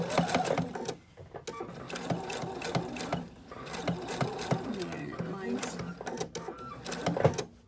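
A sewing machine stitches fabric for fortune-cookie gifts in close, rapid bursts of rattling clatter, stopping and starting, while a person speaks over it.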